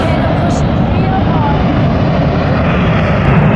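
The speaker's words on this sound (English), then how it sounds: "It literally sounds like there's an aircraft just going overhead the whole time." A volcano crater in Indonesia gives off a loud, continuous roar like an aircraft passing overhead, a steady broad rumble that never lets up, with voices faintly underneath.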